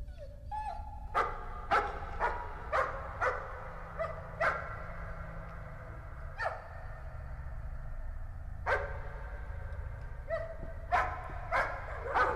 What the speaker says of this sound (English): Is the dead dog the one who's barking?